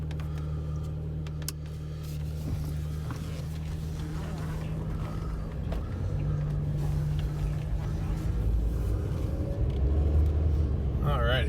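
A car drives slowly through a small town in Alaska's Aleutian Islands, its steady low engine rumble and road noise continuous throughout, growing slightly louder toward the end.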